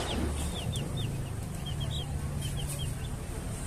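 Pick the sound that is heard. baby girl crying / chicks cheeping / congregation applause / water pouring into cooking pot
chicks cheeping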